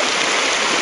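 The Tzippori stream flows near the Carmelite monks' flour mill, a continuous rushing and splashing of water that is loud, close and steady, with no voices.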